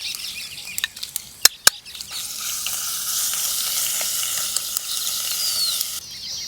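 Ginger garlic paste hits hot oil already crackling with mustard seeds, cumin and asafoetida while cooking a raw banana curry, giving a loud, steady sizzle that swells after a few sharp pops and runs on close-up for several seconds with no talking.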